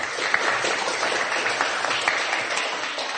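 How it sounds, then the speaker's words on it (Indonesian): Dense, steady applause from a group, close and loud, fills the whole moment as a presentation group is applauded. "Kita berikan dulu aplaus kepada kelompok 1"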